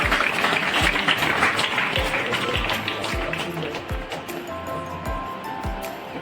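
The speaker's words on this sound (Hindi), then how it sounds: "एक बार जोरदार तालियों से।" An audience applauds a guest being honoured with a flower garland at a formal gathering. The clapping is dense and continuous throughout, with soft, regular low thumps underneath.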